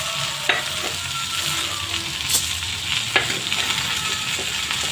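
Chana dal and urad dal sizzle in hot oil in a pan for cabbage chutney, a steady crackling fry broken by a few scraping stirs of a spoon, close and alone.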